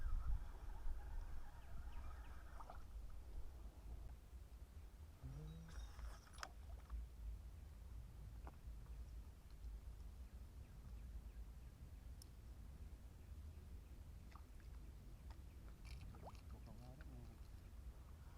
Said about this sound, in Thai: พายเรือค่อยๆ